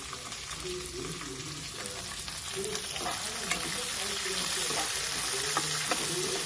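Onion slices frying in oil for a raw banana fry make a close, continuous crackling sizzle with intermittent stirring scrapes and clinks, with no voices.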